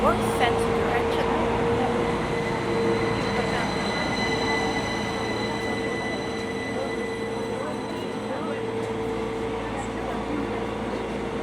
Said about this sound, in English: Quite a small train, just a few carriages